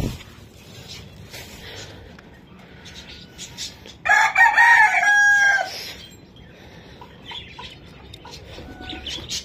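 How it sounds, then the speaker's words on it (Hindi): A rooster crows loudly and close by, one long call lasting about two seconds, amid the softer background clucking and chatter of chickens. "दोस्तों यही काम मुर्गियों का ख़राब है"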